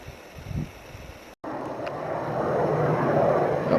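Light aircraft arriving at Westhampton Airport on Long Island in winter, heard as a broad, steady engine drone that builds gradually from moderate to louder, with wind rumble on the microphone and no talk.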